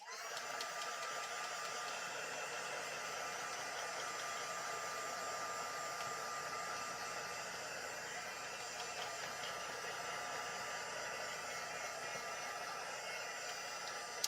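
A handheld heat tool blows with a steady, whirring, hissing drone, close and unbroken for the whole stretch, while it dries a wet dip-dyed craft piece. No voices are heard.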